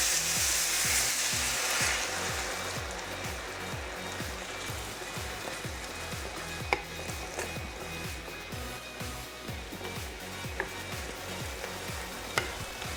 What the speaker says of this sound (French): On ajoute notre ail ainsi que le vin blanc pour déglacer le fond